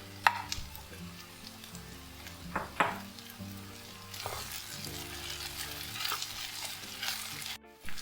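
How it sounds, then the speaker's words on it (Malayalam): Mashed potato and chicken are stirred together in a hot pan for chicken bonda, giving a low steady sizzle under repeated scraping and clattering strokes of a spoon, with a few sharper knocks against the pan. "അതിൻ്റെ കൂടെ തന്നെ നമുക്ക് ആ ചിക്കനും കൂടെ ചേർത്ത് കൊടുക്കാം. എന്നിട്ട് നല്ലപോലെ ഒന്ന് മിക്സ് ചെയ്തെടുക്കാം."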